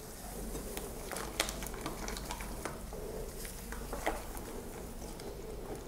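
Wheat flour being stirred into homemade sugar-free apple bread dough, soft scraping and patting of a spoon in a bowl with a few sharper clicks, quiet and close with no talking.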